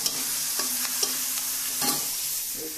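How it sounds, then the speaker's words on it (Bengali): Shredded cabbage and potatoes sizzling in a pan with fried onion, a steady hiss punctuated by several sharp clinks and scrapes of a spatula stirring, no voices. "এই যে মোটামুটি ভাজা হয়ে যাচ্ছে"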